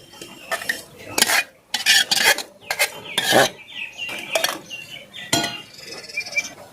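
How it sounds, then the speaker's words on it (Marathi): Homemade yogurt for shrikhand is poured from a pot into a cotton cloth, with close, irregular spoon scrapes, clinks and soft wet plops in quick succession. "तर हे दही आपण याच्यात ओतून घ्यायचं आहे"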